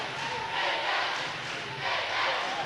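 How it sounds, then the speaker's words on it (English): Crowd at a karate nationals tournament cheering and shouting in a large hall, a continuous roar that swells twice, with commentary faintly underneath. "Crowd getting behind Soucy"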